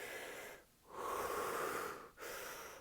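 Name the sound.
rapid hyperventilation breathing exercise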